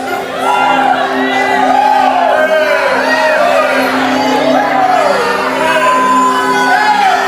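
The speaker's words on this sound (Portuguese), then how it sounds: "Com uma zoada dessa, com um grito desse." A crowd of people praying aloud, a loud overlapping clamour of shouting and wailing voices that swells and falls without pause, close and dense throughout.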